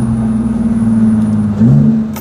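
A supercharged V6 car engine runs with a steady, loud low drone from inside the car, then briefly rises in pitch and volume near the end as it revs.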